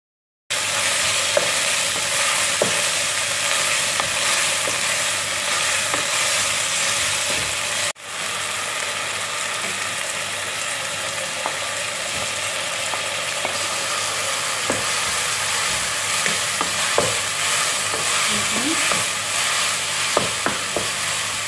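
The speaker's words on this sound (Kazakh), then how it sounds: "Алдымен етімізді ұсақтап турап, қазанға майымызды құйып, қуырып аламыз жақсылап." Chopped meat sizzles in oil in a cooking pot, a steady loud frying hiss with occasional stirring clicks and a brief break partway through.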